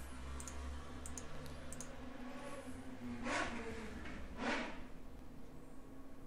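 Several quick, light computer mouse clicks early on, then two sharper clicks a second apart, over a steady low room hum with no talking.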